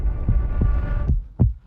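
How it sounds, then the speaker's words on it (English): A heartbeat sound effect thuds low and close, five soft beats in a steady rhythm under a dull hum, with the last beat louder and sharper. "the robber hurried to check if he still had a heartbeat"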